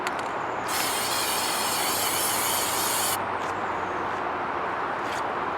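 An aerosol can sprays ZYP boron nitride separator onto a glass fusing mold in one loud, steady hiss of about two and a half seconds, then cuts off, with a faint short puff near the end.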